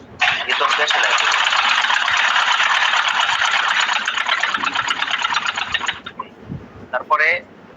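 A sewing machine stitches fabric for a shirt in a long, steady, rapid whirring run of about six seconds, close and fairly loud, then stops, followed by a few brief handling noises and a short burst of voice.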